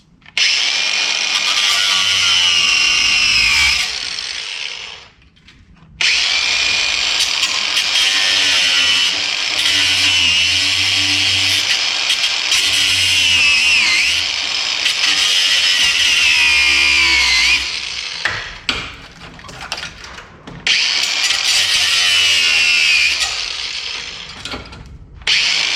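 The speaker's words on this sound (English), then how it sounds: "Just so I can get the grinder in." Angle grinder cutting through inner wing sheet metal on a barn-find Volvo Amazon under restoration, a loud, harsh, sustained screech in long bursts with two brief pauses where the disc spins down.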